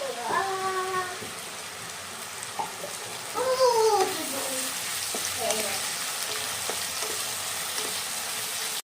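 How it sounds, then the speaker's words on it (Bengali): Ginger, garlic and green chili paste hits fried onions in a pan, giving a steady close sizzle with stirring scrapes and a louder burst of spluttering midway, with faint background sounds throughout. "পেঁয়াজটা আমাদের কিন্তু ভাজা হয়ে গেছে। আর এখন এর মধ্যে দিয়ে নেব আদা রসুন আর কাঁচা লঙ্কার পেস্ট।"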